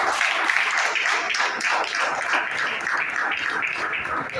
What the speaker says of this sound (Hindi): फर्स्ट ऑफ ऑल हमारे मनोज सिंह सर के लिए जोरदार तालियां